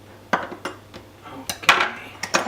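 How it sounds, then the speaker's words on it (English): Garlic crushed and chopped into small pieces with a knife on a board while preparing a Sicilian fish dish: a series of sharp, close knocks and taps at an irregular pace. "Now I like crush the garlic so they spread more evenly, and here you are, and I do the small pieces."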